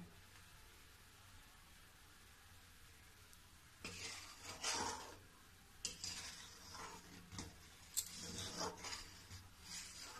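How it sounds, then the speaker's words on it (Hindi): A spoon stirs and scrapes thickening milk around the sides of a pan, with intermittent scraping strokes that begin partway through, faint and close, over a quiet background hiss. "ये चलाते चलाते चारों तरफ से ये किनारी जो है इसमें मैं खखोर खखोर के इसी में मिलाते जाऊंगी।"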